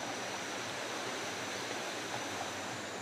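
The Ayung River in Bali rushes in a steady, even wash of flowing water, unbroken and moderately distant, with no other sounds.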